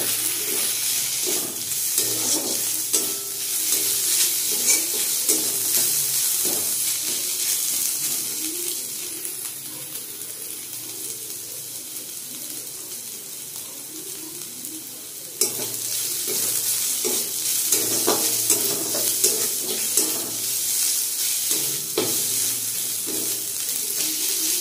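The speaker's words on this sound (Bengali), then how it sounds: "রসুন আর আদার কাঁচা গন্ধটা যাওয়ার অবধি একটু ভেজে নেব।" Garlic and ginger fry in a hot pan, a bright continuous sizzle with scraping stirs, briefly dipping in the middle before flaring up again with a sharp clatter.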